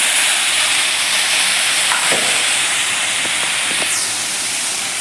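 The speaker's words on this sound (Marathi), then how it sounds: "आपले मसाले खाली करपू नयेत म्हणून त्यासाठी आपण इथे अगदी थोडंसं पाणी घालणार आहोत" Spice paste for a potato and green pea curry sizzles and hisses steadily in hot oil as a little water is added, a continuous loud spray-like hiss with no talking.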